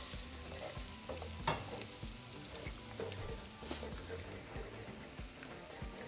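Eggs fry and get stirred with cooked meat in a pan for breakfast burritos, a soft steady sizzle with repeated scraping stir strokes, fairly faint and close.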